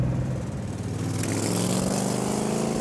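A 1971 De Tomaso Pantera's big-displacement engine revs steadily, a loud, continuous rumbling drone held close by for about three seconds with no talking.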